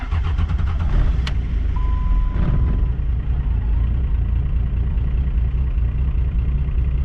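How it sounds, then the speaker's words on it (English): A 12 valve diesel truck engine, freshly fitted with head studs, idles after a 39-degree cold start, a loud steady rumbling clatter right up close, with one brief high beep early on and no talking. "That is a 39-degree cold start."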